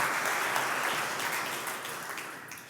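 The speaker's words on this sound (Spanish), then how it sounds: "así que denle un aplauso" Audience applause at a Spanish-language faith talk, a steady broadband patter of clapping from a crowd that holds loud throughout and fades slightly toward the end, with no voices over it.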